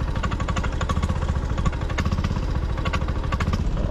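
Honda motorcycle engine sputtering at low revs, a close, loud, rapid uneven chugging with irregular popping pulses running throughout.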